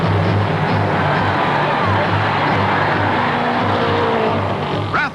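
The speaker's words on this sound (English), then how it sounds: "Driving straight for the wall at 146 miles an hour, Rathman dives deep into the corner and takes back the lead." Race cars roar through a corner at the 1960 Indy 500, loud, dense engine drone holding steady throughout, with a brief tire squeal or rising whine near the end.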